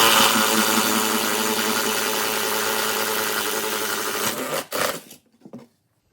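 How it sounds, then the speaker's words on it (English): A steady, loud motorized whir of a DeWalt power drill drilling through a wall, running continuously, then winding down and stopping near the end. "So I got my Dewalt drill up here inside the wall"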